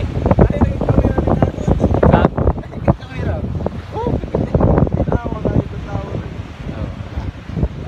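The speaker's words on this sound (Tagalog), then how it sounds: "Kay kusog kayo ang hangin" Strong seaside wind at a resort in Bongao, Tawi-Tawi buffets the microphone with heavy low roaring gusts while a person talks loudly throughout.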